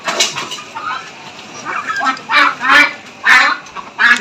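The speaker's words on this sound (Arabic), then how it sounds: "بصوا يا جماعة عشان تعرفوا انواع البط وما يضحكش عليكم في السوق" Domestic ducks at a market quack close by in loud, rasping bursts, several calls in quick, uneven succession with faint background noise between.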